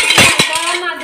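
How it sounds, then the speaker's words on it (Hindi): Steel dishes and cutlery clattering and clinking as utensils are scrubbed and washed, loud and close with dense metallic rattles and a few sharper knocks, with no talk. "यहाँ देखिए बर्तन मजाई हो रही है, तो बर्तन साफ हो रहा है"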